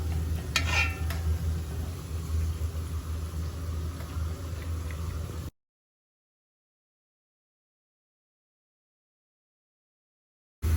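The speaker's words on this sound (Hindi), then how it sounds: "प्याज हमारा हो रहा है ब्राउन, अभी ये प्रॉपर ब्राउन नहीं हुआ, हल्के से पोले हाथों के साथ हम इसको हिला देते हैं" Onions browning in a pot for chicken yakhni pulao, gently stirred, give a steady close sizzle with a few scraping spoon clicks, then the sound cuts to silence partway through.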